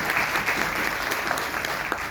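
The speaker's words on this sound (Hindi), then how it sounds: "इसके लिए जोरदार ताली बजा दी।" An audience at a lecture on Ayurveda and medical science applauds, a dense, steady wash of many hands clapping at once that holds loud and even for a couple of seconds.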